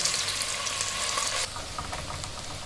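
Chopped onions sizzle steadily in hot oil in a pan for keema, a close, constant hiss and crackle that drops slightly in level partway through.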